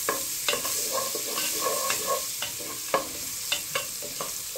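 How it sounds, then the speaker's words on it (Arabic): Onion fries in oil in a pot, giving a continuous soft sizzle broken by scraping stirs and clinks of a spoon against the metal, heard close up. "هي عم تتقلى البصلة"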